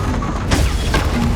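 A Confringo blasting spell explodes in Hogwarts Legacy, a short loud burst of crashing impact noise mid-clip over a dense rumbling game background, followed by a second smaller hit.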